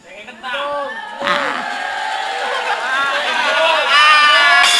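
An audience at an Islamic religious lecture in a Balaraja housing estate shouts out together, many voices rising into a loud, sustained crowd cry that swells further toward the end.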